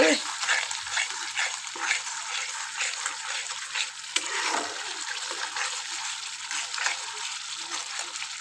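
Bata fish curry with salt frying in oil in a pan, a soft steady sizzle with occasional stirring scrapes and faint background voices.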